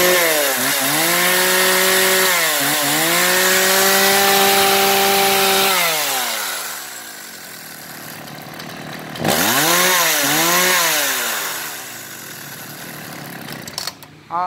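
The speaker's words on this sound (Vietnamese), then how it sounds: "À, đây là tiếng nổ của máy cưa xích Ryobi 4000." A Ryobi 4000 gasoline chainsaw roars loudly, its engine revving up and down in repeated surges, dropping to a rough idle between bursts of throttle.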